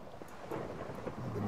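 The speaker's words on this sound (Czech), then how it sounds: "Bouřka." Thunderstorm in Minecraft: a steady wash of rain with low, rolling rumbles of thunder, moderately loud and continuous, without talk over it.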